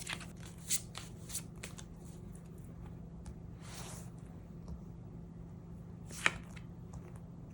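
Tarot cards shuffled at close range, a quiet soft riffling texture with a few sharper card snaps and flicks spread across several seconds, no voices.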